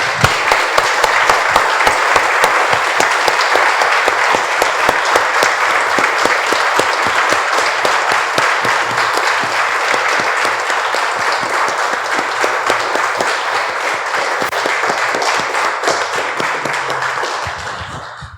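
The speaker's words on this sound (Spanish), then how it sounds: "Damos un aplauso, hermanos." Sustained applause from a church congregation after a closing prayer at a Spanish-language service, dense steady clapping lasting the whole stretch before tapering off at the very end.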